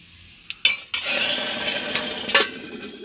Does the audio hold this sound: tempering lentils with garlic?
yes